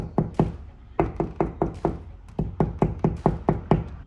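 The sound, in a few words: knocking on drywall to find stud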